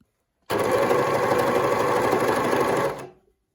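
A sewing machine runs steadily while stitching a flatlock hem, a loud continuous mechanical whir lasting close to three seconds before stopping abruptly, heard alone.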